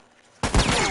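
Gunfire in The Last of Us bursts in suddenly after a quiet stretch, a loud close blast followed by a dense, sustained roar of shots with ringing echo.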